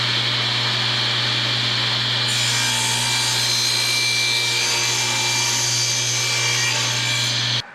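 A new Delta 36-725 T2 table saw cuts through wood, a loud, steady motor whine joined partway by the brighter rasp of the blade in the board, which cuts off abruptly at the end.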